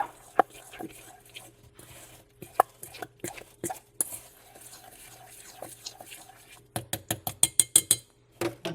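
Decor Etch resin being stirred in a cup, soft scraping and tapping strokes at an uneven pace, then a quicker run of sharp rhythmic clicks of the stirring tool against the cup near the end.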